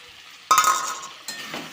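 Gobindobhog rice being stirred in a hot wok, a sudden sizzling hiss as the spatula moves through it, fading, then a second softer burst of frying noise a moment later, close and without talk.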